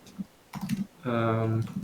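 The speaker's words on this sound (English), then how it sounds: "Do you see what I'm typing right now?" Someone types on a computer keyboard while working in a programming console. A short run of quick key clicks sits close to the microphone, and a voice talks briefly over it.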